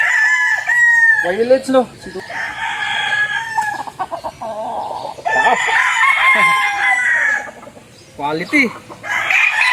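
Several young roosters (stags) crow in turn at a gamefowl farm, their calls loud and close and overlapping, with a voice speaking briefly between them.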